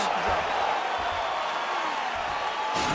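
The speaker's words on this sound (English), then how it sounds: "So the crowd voicing its appreciation after that round." A broad, sustained roar from an arena crowd in the UFC 4 video game swells at the end of a round. It sits underneath a commentator's voice that talks over it throughout.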